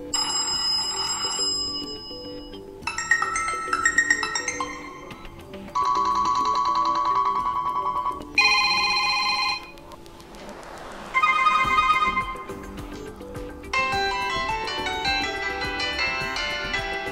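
Bell-style phone ringtone on a General Mobile GM 8 Go smartphone, a series of bright electronic ringing bursts separated by short pauses, each burst a rapid trilling bell tone, played clearly with no voices.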